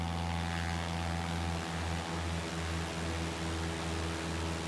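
A propeller aircraft taking off in the X-Plane 11 simulator, with a loud steady engine drone and strong low hum that rises slightly as it rolls, continuous and unaccompanied by voices.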